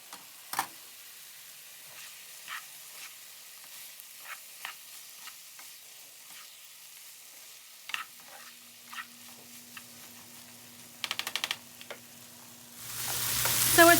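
Smoked sausage and potatoes cook in a lidded skillet with a faint, steady sizzle and scattered small pops and ticks, then a hum of steam builds near the end.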